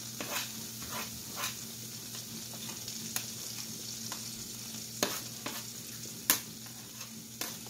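Garlic frying in a pan, a steady sizzle with intermittent scrapes and clicks from stirring, heard close and alone without talk.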